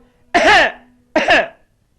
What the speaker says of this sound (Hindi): इसलिए मैं खांसी का बहाना बनाता हूं।